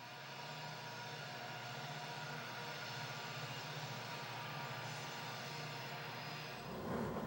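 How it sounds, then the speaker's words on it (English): Aging EMD locomotives haul a westbound Union Pacific coal train through Cajon Pass in 1995, a steady low engine rumble and rolling drone holding evenly before shifting abruptly near the end. "the aging EMDs on this westbound UP coal train"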